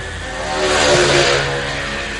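Formula 3 racing motorcycles accelerate on a road race track, a dense, loud engine roar that swells and then eases as the pack charges past, with no talk.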